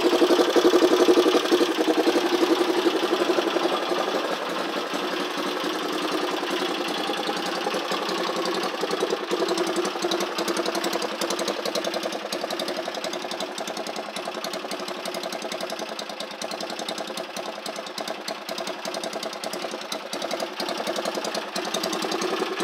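A Honda ATC 200X three-wheeler with a 214 camshaft and 100-octane fuel idles steadily after starting, a continuous close engine rumble with a slight rough knock, alone without talk.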